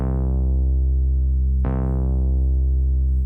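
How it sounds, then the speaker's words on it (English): A deep synth bass programmed in FL Studio holds a loud, sustained note, then retriggers partway through for a second long, humming note, with no other sounds. "you can hear this certain bass sound in the melody."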